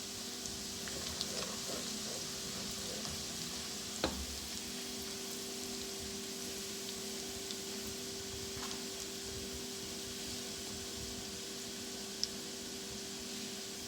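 Chilies and cumin sizzling with golden garlic in a pan for aloo methi, a steady close frying hiss with a few faint clicks and no talking.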